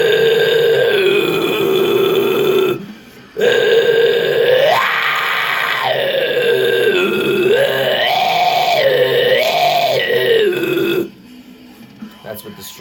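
Deep, raspy death metal growl pushed with strong diaphragm support at a middle register, sustained in long rough bursts with shifting vowel shapes and two short breaks for breath, loud and close.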